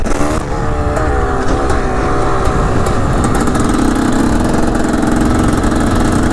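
A dirt bike engine runs steadily while riding down a dirt road toward an abandoned house, a loud, close, continuous buzz that shifts pitch partway through, with no talking.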